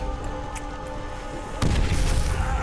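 A deep boom from an explosion in the World War II shooter Call of Duty: World at War rumbles in after a quieter stretch, with heavy low-end rumble continuing to the end.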